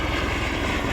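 Helicopter rotor and engine drone steadily and loudly overhead on a snowy mountain ridge during a traverse of the three Breithorn summits, with no speech.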